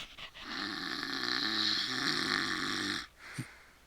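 A human voice imitates a creature snoring with a slow rumbling sound, one long sustained nasal snore lasting about three seconds, heard close and alone, followed by a brief small snort.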